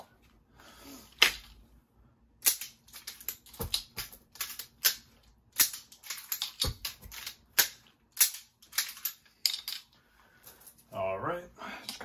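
A revolver is speed-reloaded with snap caps and dummy inert rounds: sharp, close metallic clicks and clacks come in irregular bursts, with cylinder and cartridge handling rattles between them.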